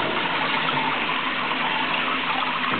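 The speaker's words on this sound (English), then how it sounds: "You see now that it's adjusted to allow more water to come in," Maple sap gushes steadily through a homemade float valve into a collection tank, a dense, continuous rushing pour that stays close and even throughout.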